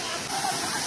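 A hidden waterfall in Shrivardhan gives off a steady, broad rush of falling water, close and continuous for a brief moment.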